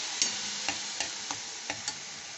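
Fresh chhana (cottage cheese) stirred in a frying pan, a steady hiss of sizzling under six evenly spaced, light spatula taps and scrapes against the pan. No speech.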